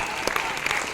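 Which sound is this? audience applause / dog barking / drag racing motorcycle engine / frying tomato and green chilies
audience applause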